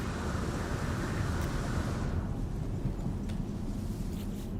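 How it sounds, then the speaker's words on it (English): A loud thunderclap rumbling in a No Man's Sky planet storm, a deep continuous roll that fades after about two seconds into a low windy background, no talk. "I heard a loud thunderclap"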